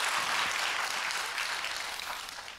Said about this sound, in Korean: 우리 가족을 위해서 여러분 같이 한번 크게 박수 한번 해주시면 고맙겠습니다.